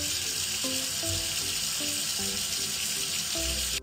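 Water rinses bubbles off Mimi in a Hello Kitty bath-time video game, a steady hissing, splashing flow running throughout over light, bouncy game music notes.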